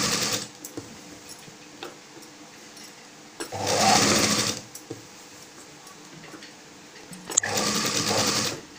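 A sewing machine stitching a dhoti, running in two distinct bursts of rapid whirring stitches, close and loud, separated by quiet pauses with faint handling clicks.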